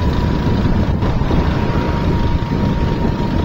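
Motorcycle engine running loudly: a constant, heavy low rumble with wind buffeting, close and unbroken throughout, with no speech.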